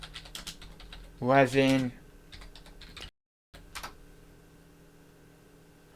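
Soft, rapid keystrokes tap on a computer keyboard in a quiet room, broken by a brief sung or spoken phrase and a short dropout before the light typing carries on.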